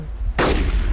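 A single sharp gunshot in the video game War Troops 1917, loud and sudden after a quiet rumble, with a decaying tail.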